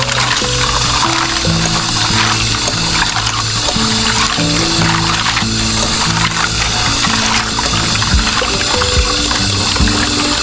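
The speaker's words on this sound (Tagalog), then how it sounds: "Hugasan muna natin ang ating seafood." Running water rinses seafood in a home kitchen, a steady loud splashing and trickling stream that continues throughout with clattering underneath.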